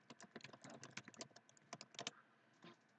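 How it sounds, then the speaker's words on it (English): Someone types on a computer keyboard in quick irregular bursts of crisp key clicks, close and fairly quiet, pausing briefly before a final keystroke. "I'm just typing that out"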